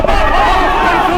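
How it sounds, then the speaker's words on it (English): A rugby crowd roars in support of Bath as they win back the ball near a contestable kick, a short, loud, sustained burst of cheering and massed voices. "The crowd cheer them on."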